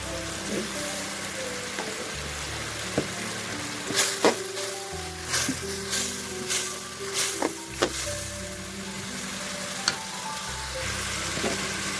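Ginger-garlic paste and masala spices frying and sizzling in a pan for a Bengali pangas fish curry with beans and potatoes, with steady close crackle and occasional stirring scrapes and clinks.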